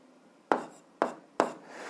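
Three brisk pen or pencil strokes scratch across paper at even intervals, each a short, close rasp, while algebra is written out by hand.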